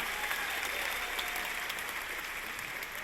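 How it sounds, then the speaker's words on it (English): An audience claps at a faculty convocation in a large hall, a steady wash of applause from many hands lasting the whole stretch. "Give her a round of applause."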